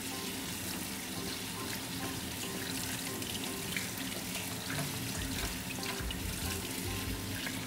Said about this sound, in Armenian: Լցնում ենք քամեջի մեջ և պահում սառը ջրի տակ։